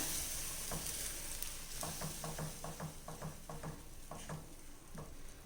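Dal curry with drumstick leaves is stirred in a pan over a soft sizzle, a run of rhythmic spoon scrapes and clinks against the metal, close and steady with no voices.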